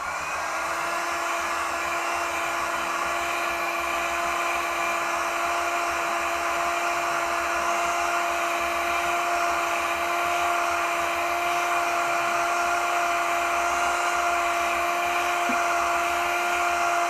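A heat gun warms a Land Rover Discovery 2 headlight housing during a projector retrofit, giving a loud, steady blowing whine with a constant pitch that runs unbroken throughout, with no voices.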